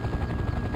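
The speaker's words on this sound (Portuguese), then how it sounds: "deixa eu erguer esse helicóptero aqui" A cargo helicopter lifts off in Farming Simulator 2015, its rotor and engine giving a loud, steady droning thump with a fast beating rhythm, heard alone for a brief moment.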